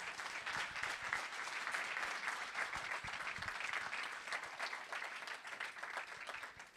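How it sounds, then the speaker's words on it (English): An audience at a table tennis for health congress applauds its panelists: steady, dense clapping from a full room that holds at an even level throughout without pause. "I would like to invite our audience to join me to applauding our panelists"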